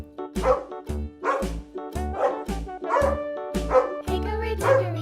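A dog barks over and over in a steady, evenly spaced rhythm, with light musical accompaniment underneath.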